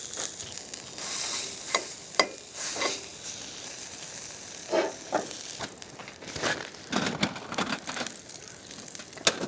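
Pork chorizo frying in a pan at an Oregon coast campsite, a steady sizzle broken by sharp pops and stirring scrapes, fairly close, with wind noise in the background.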